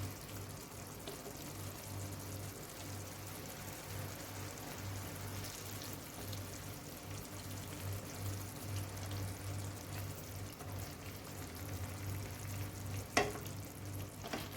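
Egg mince balls frying in oil in a pan, turned gently with a spoon for an egg kofta curry; a steady, moderate sizzle with a low hum underneath and one brief sharp clink near the end.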